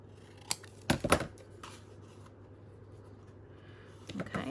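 Scissors snip through a 12-inch sheet of craft paper in a few quick, close cuts, then a pause and a short flurry of further snips, quiet and alone.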